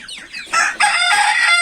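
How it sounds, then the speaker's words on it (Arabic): A rooster crows loudly and close by, a harsh drawn-out call that breaks and then carries on strongly, with no talking. "مزعج قوي الديك ده"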